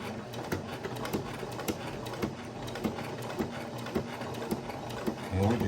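Sewing machine running a regular straight stitch around a fabric cover, a steady rhythmic ticking chatter at moderate level, close by, with a voice briefly at the end.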